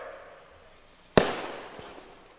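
A single sharp firecracker bang rings out nearby at an election campaign rally, its crackling burst trailing off over a second, with a faint second pop afterward.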